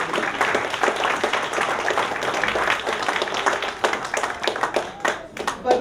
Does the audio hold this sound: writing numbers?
no